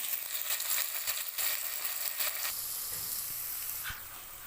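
Ginger garlic paste frying in a hot pan over golden-brown onions for chicken biryani: a steady, close sizzle with light stirring, fading slightly toward the end, without speech.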